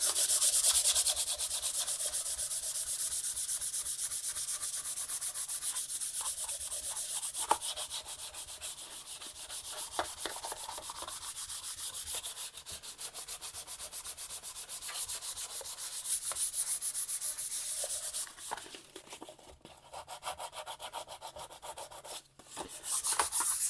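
Continuous rhythmic rubbing of 2000 grit sandpaper over the rattle-can primer on a guitar body, close and steady for over twenty seconds with short pauses and shifts in stroke, no talking.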